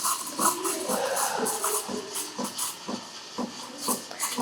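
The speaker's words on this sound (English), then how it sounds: "make sure to add a lot of air in the beginning by adding a lot of air by making it a little bit far from the steam wand" A Sage Barista Pro steam wand aerates milk in a jug, giving a loud, continuous hiss broken by rhythmic sputtering chirps as air is drawn into the milk.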